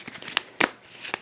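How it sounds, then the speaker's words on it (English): A deck of cards for the Sentinels of the Multiverse card game being shuffled in a few short, soft papery riffles, quiet and close, with no talking. "And then we're going to shuffle her deck up some more."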